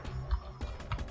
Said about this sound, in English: So much typing.